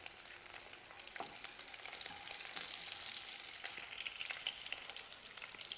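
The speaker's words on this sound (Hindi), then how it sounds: "जीरे को लाल होने पर हम इसमें मिर्च डाल देंगे" Chopped green chillies fry with browned cumin in hot oil for a paneer and capsicum curry, giving a steady, close crackling sizzle with scattered sharp pops throughout.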